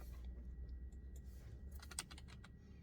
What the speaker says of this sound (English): All right, let's type in faith.